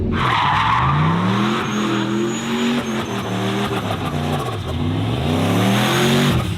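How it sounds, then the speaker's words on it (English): A powerful 1976 Camaro engine with a big turbo revs loudly up and down, its pitch rising and falling repeatedly, with tires squealing alongside. "76 Camaro, big turbo, big engine"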